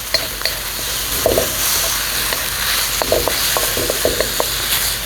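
Baby bok choy stir-fried with oyster sauce in a hot pan sizzles steadily, with scattered clanks and scrapes from the stirring throughout, close and fairly loud, with no voices.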